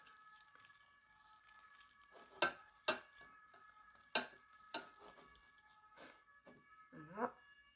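A spoon stirs eggless cake batter with flour and tuna in a bowl, giving irregular soft scrapes and sharp clicks against the bowl, with quiet talk between strokes.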